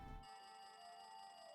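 A telephone rings in Danganronpa 2, a steady electronic trill with a bright repeating pulse that carries on alone and fairly faint after a short burst of noise at the start.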